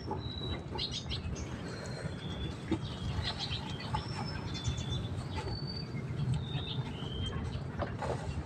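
Bato-bato birds calling outdoors in the Visayas, a series of short, clear high whistled calls repeating every second or so over a steady bed of insect and cricket buzz and low rumble.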